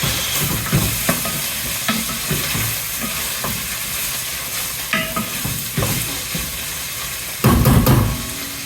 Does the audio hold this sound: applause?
no